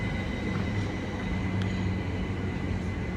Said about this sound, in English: 377624 is now heading off. It's the 10:30 Thameslink service to Bedford.